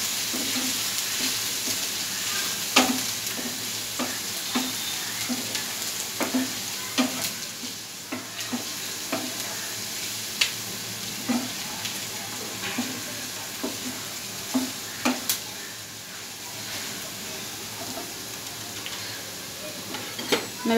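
Curry leaves crackle and sizzle in hot oil while corn bhurji fries, a steady hiss broken by frequent sharp pops and spits, close and continuous.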